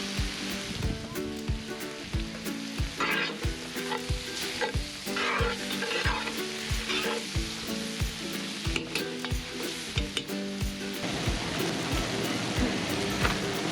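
Bacon frying in a pot over a camp stove in the mountains, a steady close sizzle broken by frequent sharp scraping and stirring knocks, with no talk over it.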